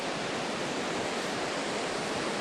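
Creek water rushes near a waterfall, a dense, steady broadband roar that stays constant and close with no voices.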